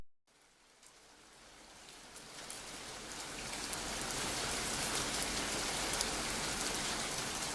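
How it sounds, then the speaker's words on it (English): Steady rain from the video game Rainy Season, a storm outside a family home, falling in a dense, continuous patter that starts soft and swells louder over several seconds, with no voices. "Listen to the rain"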